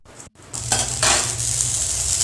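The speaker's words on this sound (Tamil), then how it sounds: "அழகாக பொரியுது கடுகு." Mustard seeds crackle and pop in a hot dry pan while making kuzhambu spice powder, a dense sizzling patter that starts after a brief pause and stays steady and close.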